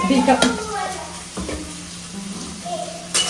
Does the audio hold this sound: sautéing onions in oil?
yes